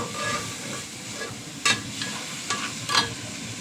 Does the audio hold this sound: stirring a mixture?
yes